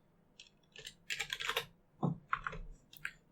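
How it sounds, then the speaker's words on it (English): A password being typed on a computer keyboard: quick bursts of close, crisp keystrokes in several short clusters, with brief pauses between them and no talking. "I'm going to go ahead and type Redcore, password Redcore"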